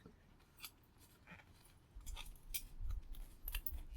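Snips of snips or cutters biting through scrap metal on a workbench, a few sharp cuts with clanking handling noise, close and moderately loud.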